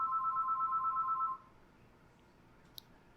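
A telephone rings with an electronic warbling tone for just over a second, then stops, leaving quiet room noise and a faint click.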